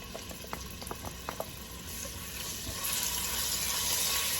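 Chopped garlic dropped into hot palm oil in a pot for a Brazilian fish stew (moqueca), a few soft clicks and pops at first, then a steady sizzling frying hiss that swells and grows louder, close up with no talking.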